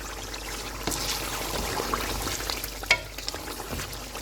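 Beef korma fries in a pot after kewra water is poured in, giving a soft, steady sizzle with a few light clinks and splashes partway through.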